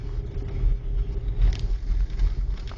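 A car drives slowly on a snowy road during a 2011 snowstorm, a low rumbling engine and tire drone with gusty wind buffeting, steady and close, and no talking.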